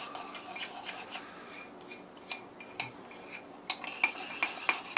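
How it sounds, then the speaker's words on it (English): A little spoon stirs pumpkin bread batter in a bowl, giving a steady run of close scraping and clinking against the sides with sharper taps toward the end, and no voices. "And then you stir it up."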